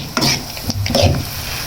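Dry fruits such as cashews, almonds and pistachios are stirred into thick maida halwa in a pan, producing a few short scraping strokes with a soft sizzle up close.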